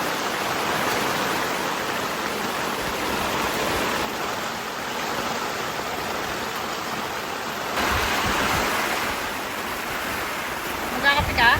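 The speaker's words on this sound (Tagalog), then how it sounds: "Lakas ng ulan." Heavy rain pours steadily during a typhoon at a mountain resort campsite, a loud continuous hiss with slight surges, and a few brief clicks near the end.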